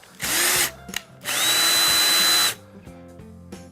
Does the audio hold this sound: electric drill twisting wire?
yes